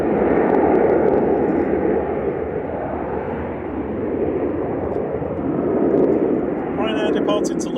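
A Boeing 737-800 rolls down the runway on its takeoff run at Manchester Airport, heard from the aviation viewing park as a broad, steady, powerful jet roar that swells slightly and stays dominant throughout.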